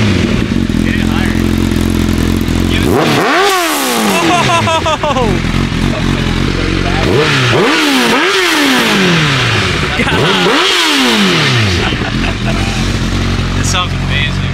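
Engine of a new car, one of seven in the world, revved hard three times, each rev climbing sharply in pitch and falling back to a loud rumbling idle, with voices talking over it.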